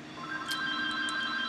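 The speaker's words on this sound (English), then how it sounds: "I need to go and answer the phone." A telephone rings indoors with a steady electronic tone and a few brief chirps on top, moderately loud with no talking.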